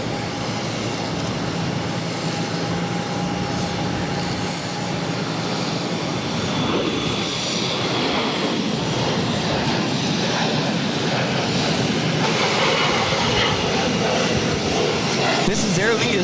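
An Aer Lingus Airbus A330-300 lands at Boston Logan, giving a steady, broad jet roar that stays loud throughout and swells slightly toward the end, with a voice talking over it.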